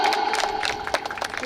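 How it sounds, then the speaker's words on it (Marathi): Audience at a gift-giving event clapping, a brief burst of dense crowd applause mixed with cheering voices, close and lively throughout. "टाळ्या एकदा जोरदार टाळ्या."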